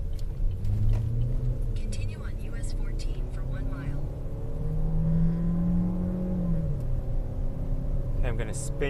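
Road traffic rolling along US 14 in Minnesota during a storm chase, a steady close engine rumble with vehicles passing, someone talking over it throughout.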